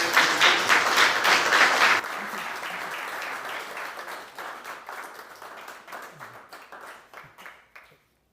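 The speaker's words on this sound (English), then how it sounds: "let's give a round of applause" An audience at a freethinkers' talk claps loudly, then the applause thins into scattered individual claps that fade away over about eight seconds.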